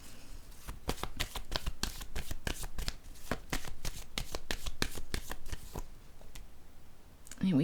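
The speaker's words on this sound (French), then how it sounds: "Je vais piger une autre carte." A deck of tarot cards shuffled steadily in rapid crisp flicks for several seconds, close to the mic, ending with a card being drawn and a short voice at the end.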